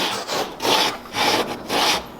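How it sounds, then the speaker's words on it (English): Hand saw cutting a dado in wood for stair treads: four close, steady rasping strokes in a back-and-forth rhythm, with no talk. "Now I try and keep that saw in that curve."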